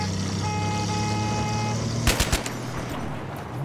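Steady low rumble of a car engine in the Battlefield 3 multiplayer game, idling at constant pitch under faint tonal game noise, then a brief burst of sharp cracks like gunfire nearby.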